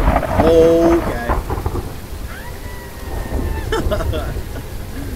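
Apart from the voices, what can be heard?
thunder and rain in the video game Phasmophobia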